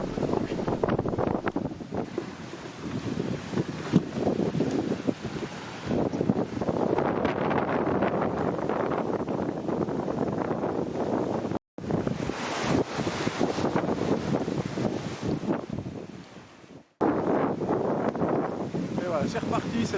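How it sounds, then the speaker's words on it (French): Strong wind of around thirty knots buffets a JPK 1010 sailboat at sea, a steady loud roar with rushing water beneath, briefly cutting out twice. "Le vent passe à une trentaine de nœuds"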